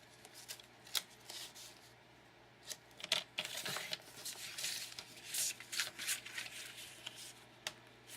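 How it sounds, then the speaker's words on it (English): Cardstock being cut to size for a handmade card, giving soft, scattered snips and papery rustles at the start and through the middle, quiet and close with no talking. "I'm gonna cut that by 5 1/4 by 4"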